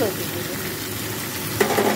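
Taro stems frying with garlic and chilli in a pan, a steady close sizzle throughout with a brief stirring clatter near the end.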